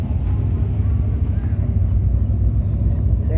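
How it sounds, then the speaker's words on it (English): Dirt track race cars hot lapping at a South Carolina speedway make a steady, low engine rumble and drone from a distance, with crowd noise mixed in. "They got somebody already out there racing."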